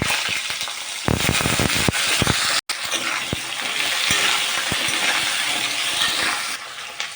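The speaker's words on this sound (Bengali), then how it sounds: "আমার মশলাটা ভেজা ভাজা হয়ে গেছে এবার আমি দিয়ে দেবো মিষ্টি কুমড়োগুলো আর আলু" Pumpkin and potato pieces hit hot oil with panch phoron spices in a pan, sizzling loudly and steadily, with sharp stirring scrapes and crackles throughout and no talking.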